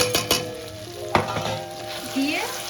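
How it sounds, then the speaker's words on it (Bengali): A fried spice mix sautéing in a pan for chicken curry, a close sizzle broken by several sharp scraping and stirring knocks, with no voices. "দিয়ে সব উপকরণগুলো দিয়ে ভালোভাবে কষিয়ে নেব।"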